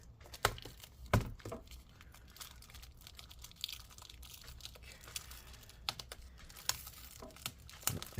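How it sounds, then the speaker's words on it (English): Plastic wrapping torn and peeled off a 16-inch MacBook Pro A2141 during disassembly: scattered crinkling and sharp tearing bursts, close and fairly quiet, with no talking. "I guess we're just going to tear up all this plastic."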